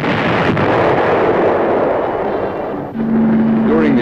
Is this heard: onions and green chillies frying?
no